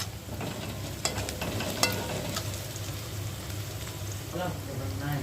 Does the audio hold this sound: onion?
yes